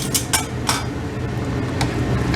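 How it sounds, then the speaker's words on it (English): Meat for pot roast being turned in a pan, with a few sharp metallic scrapes and clinks of a utensil against the pan over a steady loud bubbling, sizzling bed of sound. "I just turned over the meat, make sure that there's nothing is sticking to the bottom of the pan"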